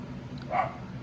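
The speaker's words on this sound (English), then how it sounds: "you can hear my dogs barking in the background" A dog barks once, faint and distant, from outside in the background over a low steady hum.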